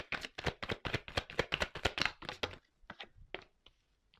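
Tarot cards being handled and shuffled, heard as a rapid run of crisp riffling taps that slows into a few scattered clicks, close and fairly quiet, with no voices.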